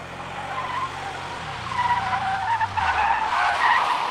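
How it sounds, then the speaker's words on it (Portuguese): A car skids to a stop close by, tires squealing and rising in a long harsh screech over a low engine rumble, loud and sustained with no voices. "Naquele instante, um carro parou, quase vizinho ao meu."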